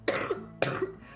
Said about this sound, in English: I am still going to be coughing.